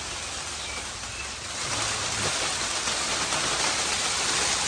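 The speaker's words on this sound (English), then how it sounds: "the rain continues to come down, pouring down, raining out" Heavy rain pours down on a Palram Canopia hybrid greenhouse during a bad storm, a dense, loud, unbroken hiss that grows stronger partway through, with no voices.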